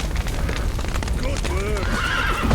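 Horses neigh and whinny loudly over rumbling hoofbeats and a busy, noisy backdrop in the video game The Witcher 3: Wild Hunt, with several rising and falling calls close together.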